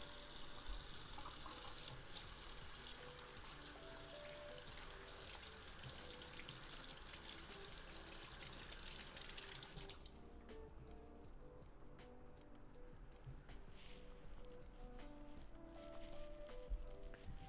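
A kitchen tap runs steadily into a sink while pan handles are washed, a continuous close splashing rush that shifts in tone partway through as the flow hits the pans, with no talk.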